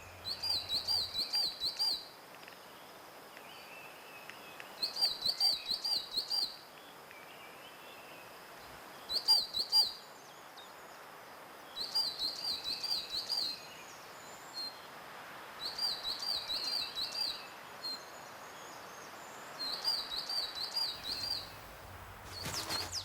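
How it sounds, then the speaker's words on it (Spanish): Songbirds such as crossbills, citril finches, redstarts, ring ouzels and chaffinches chirp and trill in a subalpine mountain forest of firs and pines, repeated bursts of bright high song phrases recurring every few seconds over a soft ambient hush. "Piquituertos, verderones serranos, colirrojos, mirlos capiblancos, pinzones, se reparten el espacio durante la corta estación favorable."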